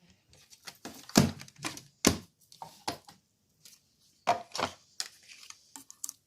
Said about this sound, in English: Bring in my cut and emboss machine.